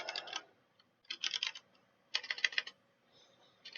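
Clicky bursts of typing on a computer keyboard come in three or four short, quick clusters separated by pauses, close and fairly quiet.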